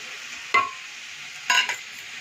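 Mustard paste frying in a pan over a steady low sizzle, with two distinct scraping stirs of a spoon a second apart, close and clear.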